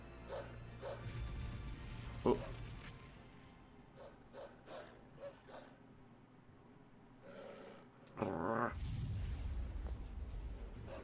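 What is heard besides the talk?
dog barking and growling in video game Tales of Zestiria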